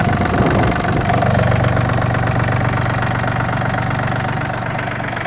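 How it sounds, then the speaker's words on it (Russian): A Yanmar AF226 4WD mini tractor engine idles close by with a steady, slightly rattling rhythm, loud and continuous, easing a little toward the end. "Еще раз просто послушайте работу двигателя."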